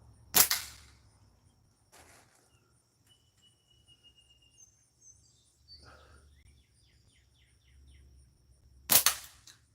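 Gunshots fired at a metal plate target during outdoor target practice ring out as two sharp, loud reports, one near the start and one near the end, with faint insects and birds chirping in between.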